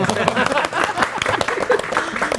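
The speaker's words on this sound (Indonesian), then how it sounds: "Oke, kita tepuk tangan" A studio audience claps during a televised political discussion program, a busy burst of applause that stays fairly steady throughout.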